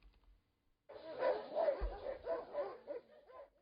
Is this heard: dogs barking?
yes